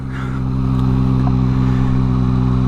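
Yamaha MT-09 motorcycle being ridden, a steady loud engine drone with strong low harmonics and constant wind rush throughout, close and continuous without talk.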